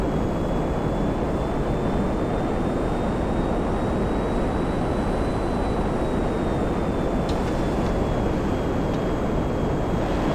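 A continuous, loud jet engine roar from an F/A-18E Block III Super Hornet flying in a GTA 5 mod, broad and unbroken, with a faint steady whine running through it.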